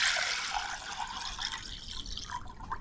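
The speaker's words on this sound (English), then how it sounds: "So I'm going to fill it with water." Water pours steadily into a bowl set inside a vase, a continuous close splashing trickle that shifts toward a fuller, gurgling fill near the end.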